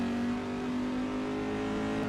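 A GT race car engine in the rFactor 2 racing game at Silverstone holds a steady, loud drone throughout, with no pauses or talk.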